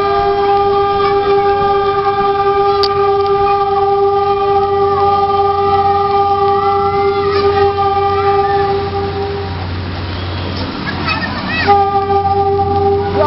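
PNR passenger train in the Philippines running loud and close, a steady rumble under sustained horn tones, with a brief break and renewed horn near the end.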